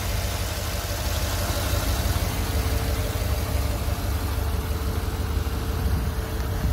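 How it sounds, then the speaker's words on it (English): A car engine idles, recorded close up as a steady, loud low rumble with a slight rhythmic knock, continuous for several seconds with no voices. "So that's the engine."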